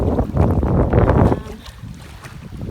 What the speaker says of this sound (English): it's a tad bit windy here on Bottle Lake